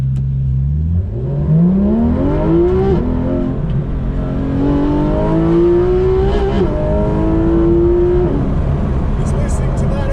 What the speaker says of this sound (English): is listening to that engine